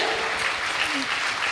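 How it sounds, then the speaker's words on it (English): An audience at an international academic conference on herbs and toxicants applauds a keynote speaker, with steady, dense clapping throughout the short burst. "Please join me in giving big applause to our keynote speaker."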